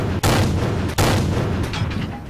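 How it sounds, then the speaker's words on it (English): Loud, continuous gunfire and booming cannon shots from tanks in World of Tanks, with an M5 Stuart in the battle: dense rumbling fire punctuated by two sharp blasts, close and sustained throughout. "Withering cover fire."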